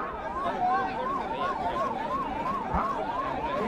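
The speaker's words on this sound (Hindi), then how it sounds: "भैया ये एम्बुलेंस को निकलने दीजिए प्लीज" An ambulance siren wails in a steady rising and falling cycle, loud and close, over a dense background of traffic and crowd noise with voices.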